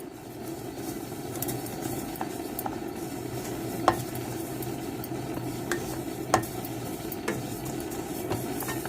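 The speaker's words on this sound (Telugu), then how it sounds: "నువ్వులు కూడా బాగా వేగిపోవాలి" Sesame seeds roasting in a dry pan, giving a steady, close rustle of stirring with faint sizzle and two or three sharp scrapes of a utensil on the metal.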